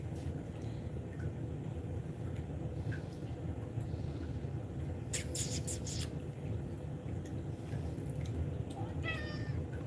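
Domestic cat meowing indoors, a short rising call near the end over steady low background noise, with some faint rustling earlier.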